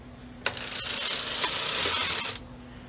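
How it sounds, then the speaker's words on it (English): A knitting machine's change knob is turned to KC, giving a quick run of ratcheting clicks that settles into a steady mechanical whir for about two seconds before stopping, close and clear with no talk. "Now I'm going to turn the change knob to KC."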